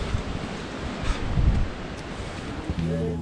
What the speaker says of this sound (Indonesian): Anginnya di sana.